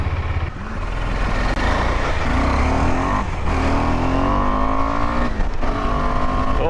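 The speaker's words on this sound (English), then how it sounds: "So starting our journey with our new KTM 390 Adventure." KTM 390 Adventure motorcycle engine under way, a steady loud drone with rising revs as the rider accelerates through gears, wind rush behind it and no talking.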